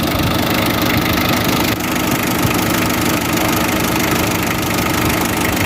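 Old-school diesel engine of a second-hand vehicle idling, a loud, steady clattering rumble that runs unbroken throughout.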